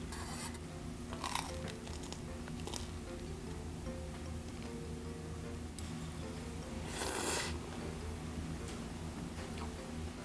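Chewing dumplings during a mukbang of spicy jjolmyeon, close and steady crunchy biting and mastication sounds continuing throughout with no talking.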